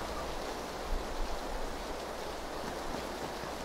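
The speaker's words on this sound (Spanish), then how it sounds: "Lluvia." Rain falling in the video game PUBG, a constant broadband hiss of steady downpour with a low rumble underneath, heard alone without talk.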